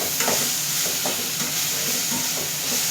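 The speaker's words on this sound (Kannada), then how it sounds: "ಇದಕ್ಕೆ ಬದನೆಕಾಯಿ ಹಾಕ್ತಾಯಿದ್ದೀನಿ ಈಗ ನಾನು" Half a kilo of tender brinjal, salted and turmeric-washed, sizzles in a hot pan with a steady, close hiss, while a spoon scrapes and stirs through it in regular strokes.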